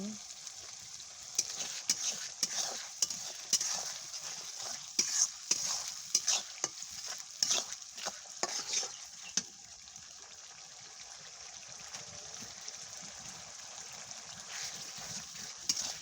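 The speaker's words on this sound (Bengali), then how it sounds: "প্রথমে মশলাগুলো ভালো করে কষিয়ে নেব মশলাগুলো কষিয়ে নেব ভালো করে" Ground spices are stir-fried in a pan for a chicken leg bhuna, a soft sizzle under frequent scraping and clattering of a spatula that stops partway, leaving a quieter hiss.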